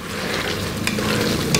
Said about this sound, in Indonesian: Kita masak sampai airnya menyusut ya.